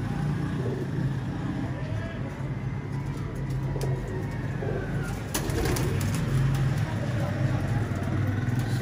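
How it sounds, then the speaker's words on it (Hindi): A Teddy Qasoori golden pigeon coos softly and repeatedly under steady background hum and distant traffic, while someone talks nearby. "ये एक डब वाली कबूतरी है जी"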